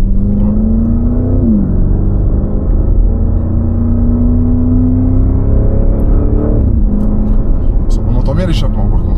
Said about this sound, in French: On entend bien l'échappement par contre.